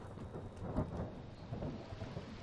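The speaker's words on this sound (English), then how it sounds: "It's raining." Rain and thunder in The Forest video game: a low rolling rumble of thunder swells and fades over steady hissing rainfall, fairly quiet and distant, with no talking.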